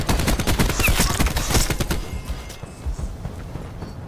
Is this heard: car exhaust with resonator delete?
no